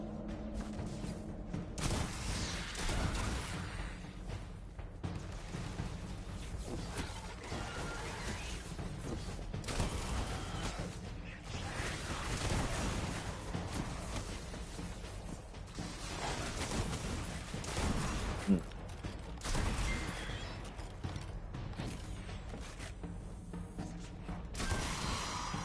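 Dense, continuous gunfire and booms from a Destiny 2 battle in the Vanguard Operations playlist, with weapon shots and impacts crowding together at steady loudness throughout and no voices.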